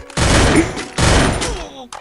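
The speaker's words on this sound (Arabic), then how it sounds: "ضربني كام طلقة قوم يا جدعان وما موتنيش برضو." Gunfire in the Free Fire Clash Squad video game, two loud close bursts of rapid shots, each about half a second long with a short gap between, ending in faint clicks.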